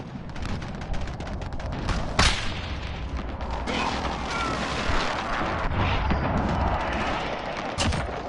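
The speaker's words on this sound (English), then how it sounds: "Airstrike." An airstrike in the Call of Duty beta fills the space with a dense, continuous rumble of explosions, punctuated by a few sharper booms and distant gunfire.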